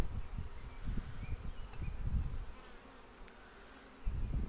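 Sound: honeybees buzzing at open hive

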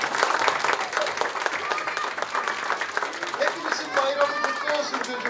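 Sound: applause for the teachers

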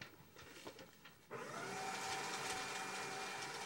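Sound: grinder grinding

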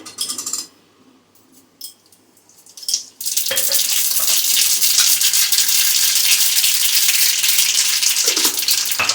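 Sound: cumin and mustard seed tempering sizzling in hot oil

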